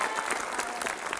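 An audience applauding in a high school assembly, a dense burst of many hands clapping close and loud throughout.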